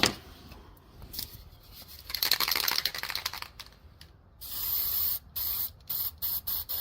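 Aerosol spray paint from a Spraycasso can, purple color, sprayed while painting an abstract tree: a soft hiss at first, then a louder run of sharp, repeated short bursts near the end, with no voices.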